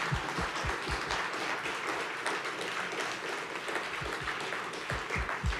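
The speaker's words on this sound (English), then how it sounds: "So I think we need a round of applause to everybody for everybody" Audience applause after short university research talks, dense continuous clapping with a few close, distinct hand claps standing out over the crowd.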